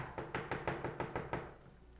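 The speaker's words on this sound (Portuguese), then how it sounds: "resolveram bater à porta." A rapid run of about eight sharp knocks on a castle door in a children's story, evenly spaced and close, then fading into quiet.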